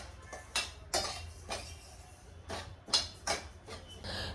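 A spoon stirring sesame seeds roasting in a pan over low heat, producing soft scraping swishes and light metallic clinks in an irregular rhythm, quiet and close, with no talking.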